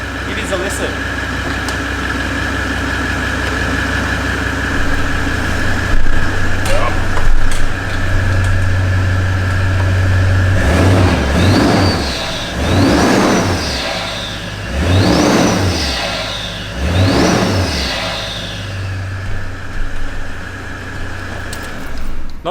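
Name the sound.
Toyota 70 series Landcruiser engine revving, with Legendex snorkel airbox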